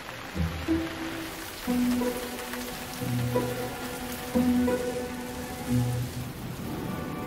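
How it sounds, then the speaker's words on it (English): Heavy rain pours steadily and close by outdoors, a dense continuous patter with several low tonal sounds rising and falling over it, and no voices. "The rain is coming down harder."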